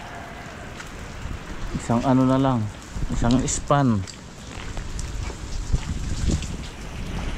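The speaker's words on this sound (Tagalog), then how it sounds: "Lakas-lakas tong ulan." Heavy rain falls steadily on a construction site, a dense hiss that continues without a break while someone speaks briefly over it.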